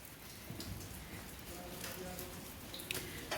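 Steady light rain falls on a street at night, a soft continuous patter with faint scattered drops and distant background murmur, no one speaking close by.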